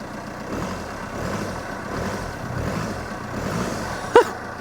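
An Audi TT car engine idles steadily with a low, even rumble, close by, with a brief sharp knock near the end.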